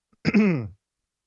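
A short throat-clearing cough from a podcast host in a live recording, a single brief burst close to the microphone, alone with silence around it.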